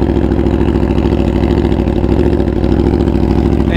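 A very loud superbike engine idles close by, a deep, steady throbbing rumble with even pulses and no talking.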